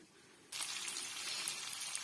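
Fish sizzles in a frying pan in a home kitchen, a steady close hiss that starts abruptly after a brief quiet moment and carries on with faint pops.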